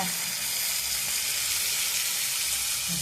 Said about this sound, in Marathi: शेंगा टाकून देऊ